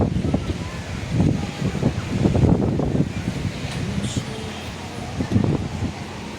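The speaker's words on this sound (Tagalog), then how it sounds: "Sarap ng hangin." Wind blows steadily outdoors at a busy picnic area where a band plays and crowds stroll, with a broadband rushing noise against the microphone under nearby voices talking.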